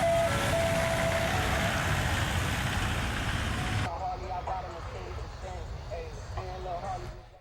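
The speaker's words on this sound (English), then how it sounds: "They even have the ice cream trucks." An ice cream truck's tinkling melody rings out at a Detroit street party, first under a steady heavy rumble of traffic and crowd noise, then clearer and brighter as the surroundings quiet down.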